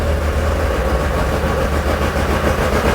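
The 2.8 litre six-cylinder engine of a Porsche 911 RSR build running on all six cylinders, a loud, dense, continuous rumble close by with a rapid throbbing pulse and no voices.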